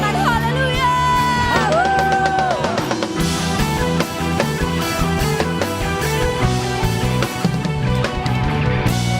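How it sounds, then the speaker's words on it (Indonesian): Church congregation at an Indonesian online worship service, loud and sustained with overlapping voices, over continuous music with singing and instruments throughout. "Sorakan haleluya."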